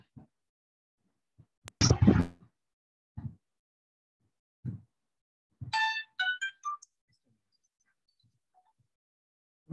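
A mobile phone ringtone goes off during a chemistry lecture, playing a short melodic burst of chiming tones, with a few thumps and brief sounds around it in an otherwise quiet room.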